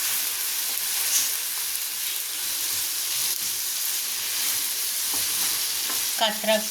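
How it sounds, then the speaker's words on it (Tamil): Steady sizzling of brinjal (eggplant) frying in a pan for a spicy stir-fry, a constant hiss with occasional stirring scrapes and a brief clink near the end. "கத்திரிக்காய் நல்லா ஃப்ரை ஆகிடுச்சு"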